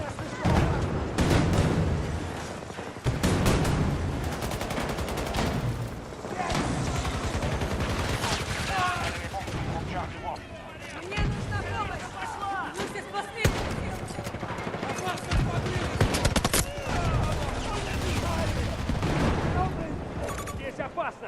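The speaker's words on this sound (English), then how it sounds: "Placing the mounted cannon." A mounted cannon in a video game fires amid a loud, dense barrage of explosions and gunfire that continues for about twenty seconds, with brief lulls between heavy bursts and voices partly buried underneath.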